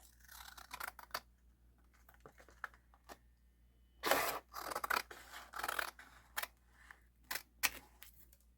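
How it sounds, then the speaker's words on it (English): Scissors trimming banana packaging material for a journal cover, a series of quiet, close, crisp snips and scratchy cuts with short pauses between them. "I'm going to trim that a little bit"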